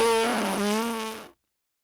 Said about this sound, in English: Now squeeze your cheeks.